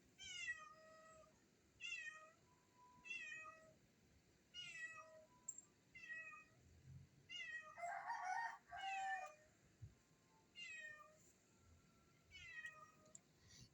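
A pet cat meows repeatedly in a steady series of drawn-out calls with short pauses, fairly faint indoors, with a brief louder overlapping cry in the middle.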